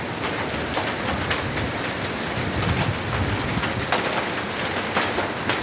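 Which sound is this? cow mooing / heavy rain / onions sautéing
heavy rain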